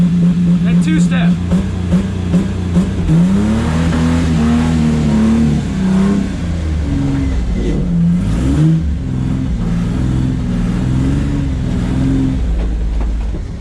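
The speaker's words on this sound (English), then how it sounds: "when I go wide open throttle, it activates the two-step." A car engine at wide open throttle bangs against two-step launch control, a loud, near, continuous crackling rev that rises and holds with stuttering pops, running throughout without pause.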